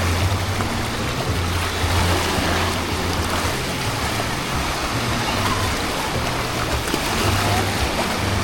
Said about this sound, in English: Watch out, dude. There's waves.